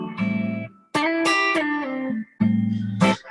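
Clean electric guitar rhythm patch with light reverb and a touch of delay, ringing chords played in three separate bursts with short gaps, each decaying into a soft tail, loud and alone.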